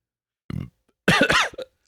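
A short, deep belch followed by a longer, louder burp with a gurgling, vocal quality, both close and clear in a quiet setting.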